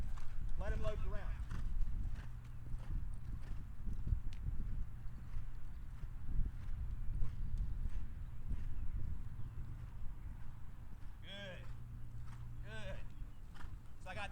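A horse loping under a rider gives a steady rhythmic clip-clop of hooves through most of the stretch, while someone talks throughout and a few higher squeaky sounds come through.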